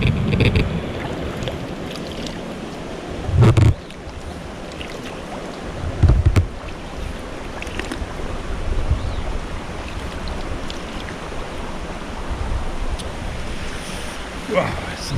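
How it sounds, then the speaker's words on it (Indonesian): Mountain stream on a Rinjani trek via Aik Berik rushing toward a waterfall, a steady broadband wash of flowing water with wind buffeting the microphone and a few louder thumps. "aliran air ini akan turun, terjun ke menjadi air terjun Umar Maya"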